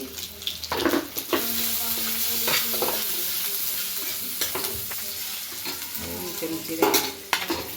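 Spiced vada pav filling sizzles and fries in a pan while a spoon stirs it, with steady close frying hiss and repeated scraping knocks of the utensil against the pan.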